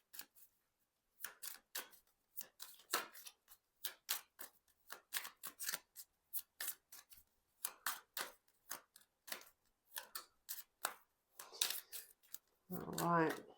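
Tarot cards being shuffled and drawn by hand, a long run of crisp, close flicks and snaps at an irregular quick rhythm, ending in a brief flutter of cards riffling together.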